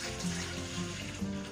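Water poured from a can into yoyo bread dough, a steady, close, moderately loud liquid pour with a rising pitch as it flows, with no one speaking.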